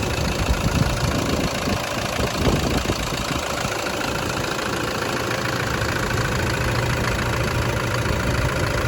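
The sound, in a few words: 2013 Toyota Hilux engine idling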